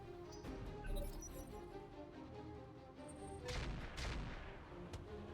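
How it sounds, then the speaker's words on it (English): Autocannons or rifles firing in the mech combat video game RogueTech: a dense run of booming shots and rattling impacts, loud throughout, with a heavier burst of blasts near the end and no talk. "That's either 2 autocannons or 2 periphery rifles, or perhaps an ultra autocannon"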